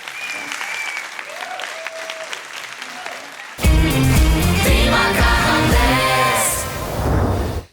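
A studio audience on a televised masked singing show bursts into loud, sustained applause and cheering after a host speaks over music, the clapping dense and close until it fades at the end.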